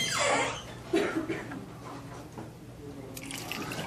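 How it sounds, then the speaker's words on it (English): Six quarts of liquid mix pour into a machine, a brief close splashing gush at the start followed by softer dripping and trickling that fades. "in the machine goes 6 quarts of mix"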